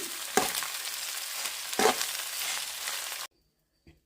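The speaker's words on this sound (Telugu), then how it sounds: "ఇప్పుడు మిరియాల పొడి పెప్పర్ పౌడర్ ఇప్పుడు వీటిని మిక్స్ చేసుకున్నాం" White rice being stirred with pepper powder in a pan: a continuous soft frying hiss with two sharper spatula scrapes, ending abruptly in near silence with one faint knock.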